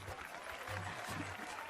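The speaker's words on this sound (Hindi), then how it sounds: "तालियां बजाओ" A gathered crowd breaks into brief, moderately quiet applause, with scattered clapping over a low murmur.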